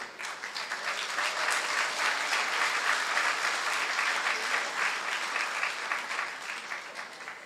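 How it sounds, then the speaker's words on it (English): A crowd applauds steadily at a political party manifesto launch in Jamaica, a dense, sustained wash of clapping that holds level for several seconds before easing slightly at the end. "A round of applause again for the first presentation"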